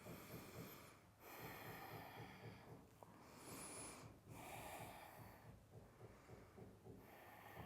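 Slow, controlled breathing during a power yoga stretch, with several long inhales and exhales in a steady rhythm, soft and close-miked, with no talking.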